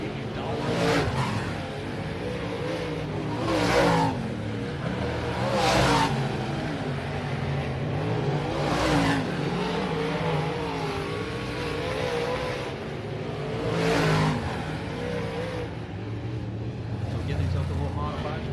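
Open-wheel modified race cars with big engines and skinny tires roar around Mountain View Raceway, engines rising in repeated loud pass-by surges over steady track noise, with an announcer talking over it.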